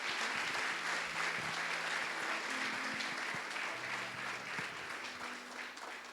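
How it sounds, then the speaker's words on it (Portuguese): A church congregation applauds during a service, a steady wash of many hands clapping at moderate distance, with a low hum and faint tones running underneath. "Você pode aplaudir ao Senhor Jesus, celebrando a Ele"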